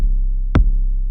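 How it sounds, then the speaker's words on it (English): A deep, booming 808 bass tone sustains throughout, with one sharp punchy kick hit midway. "if you got an 808 that sound kind of like this"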